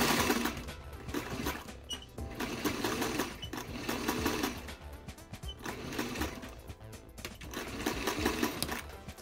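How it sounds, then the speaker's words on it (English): A sewing machine stitches a centered zipper into a dress in steady whirring runs. Brief pauses and changes in speed break up the close, moderately loud mechanical hum, with no talking. "Right now I'm actually stitching on the side that wasn't basted."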